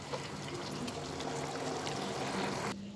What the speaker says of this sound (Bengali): মশলাসহ মাংসটা কষিয়ে নেওয়ার পর দিয়ে দেব মিক্সি ধোয়া জলটা।